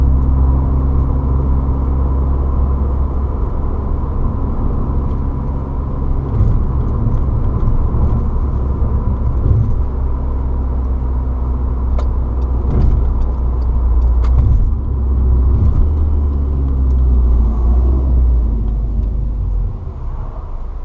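A car engine hums and rumbles steadily at close range, a constant low drone with faint rattles and clicks throughout.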